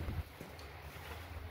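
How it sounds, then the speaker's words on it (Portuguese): Steady wind blowing through an open doorway during a door installation, a continuous broadband rush with microphone buffeting, fairly loud and alone. "É um vento muito bom aqui"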